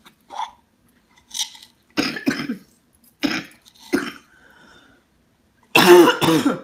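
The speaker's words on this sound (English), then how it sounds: "I've got this cough come back" Several harsh coughs come in short bursts with pauses between, ending in a louder, raspy double cough up close.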